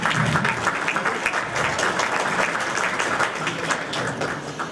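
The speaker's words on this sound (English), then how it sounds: "So a big round of applause for our even mega sponsor, Asim Navee." Sustained applause from an audience at a children's education charity fundraiser, honoring a major sponsor; dense, steady clapping fills the hall at a constant level with no voices over it.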